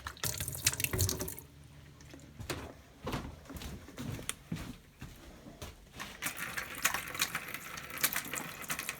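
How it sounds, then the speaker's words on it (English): Water runs through the faucet lines of a camper during winterizing, spurting and splashing into a sink in uneven bursts with drips and brief pauses, heard quietly up close. "I did see a lot of water come through"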